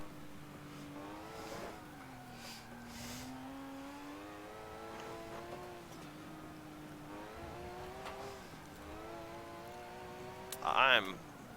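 A race car in a video game is driven through the Le Mans circuit, including the Porsche curves. The engine drones steadily with repeated rising revs as it shifts up through the gears, and a brief sharp burst comes near the end.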